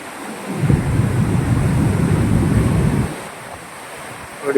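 Water gushing from a Somasila dam gate on the Penna river, heard as a heavy low roaring rush that swells in, holds steady for a few seconds under buffeting wind, then drops away sharply.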